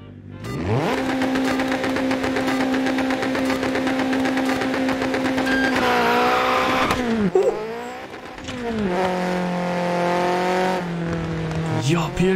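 A Group B four-wheel-drive rally car in Dirt Rally 2.0 roars up through the gears, its engine pitch climbing steadily with brief drops at each shift, loud and up close, with tire noise as it pushes on.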